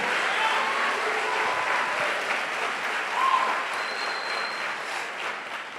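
Congregation applauding in church during an evening service, a steady broad wash of clapping from many people that carries on throughout at moderate level.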